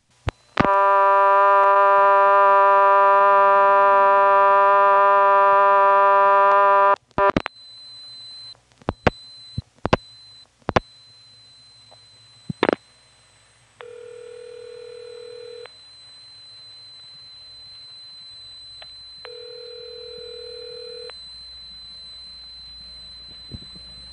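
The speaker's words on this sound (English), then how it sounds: "Here, for example, is the vacant code recording from the Siler City NX1 toll center, reached by dialing 1 followed by 311." A telephone line reaching the vacant code recording at the Siler City NX1 toll center, a long harmonic tone, then clicks and switching pulses, then two spaced pure tone bursts, clear and close.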